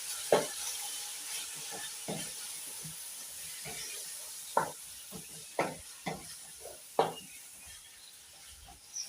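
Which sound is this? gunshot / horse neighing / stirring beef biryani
stirring beef biryani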